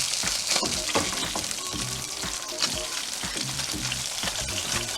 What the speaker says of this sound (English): Okay, now we're going to turn the fish.